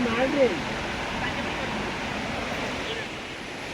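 Cold river water runs fast in Munnar, a steady, loud rushing roar close by with a faint breath of wind over it.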